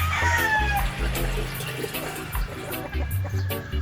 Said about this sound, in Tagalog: At salinan natin suka.